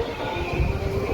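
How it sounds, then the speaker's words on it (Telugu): A train pulling out of Mayiladuthurai Junction station rumbles with a low, steady mechanical drone and faint rolling wheel noise, heard close and without talk. "మన ట్రైన్ అయితే బయలుదేరుతుంది మైలాదిదుర్గ జంక్షన్ నుండి"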